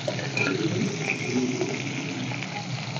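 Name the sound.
shrimp frying in hot mustard oil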